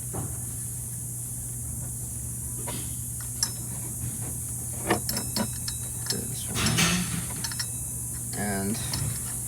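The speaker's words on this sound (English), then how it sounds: "So I'm gonna crank these down and we'll be done." A ratchet tightens the shock absorber bolts on a 2002 Chevy Tracker's right rear shock, giving scattered metallic clicks and short ratcheting bursts over a steady low hum, close by.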